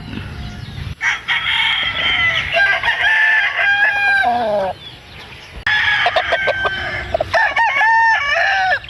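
Backyard bloodline gamecock roosters crowing loudly nearby in long, repeated cock-a-doodle-doo calls, one after another with a brief pause between, mixed with occasional clucks.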